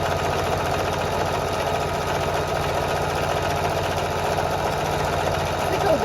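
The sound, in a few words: sewing machine labouring while sewing a jelly roll rug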